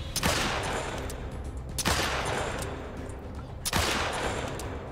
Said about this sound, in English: I can't shoot 300 yards with a pistol. I mean, hey, we'll try it.